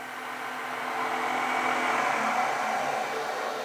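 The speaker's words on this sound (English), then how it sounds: "I'll just turn that lathe off" A metal lathe runs with a steady, even whir and hum that holds at a constant level, with no speech and no interruptions.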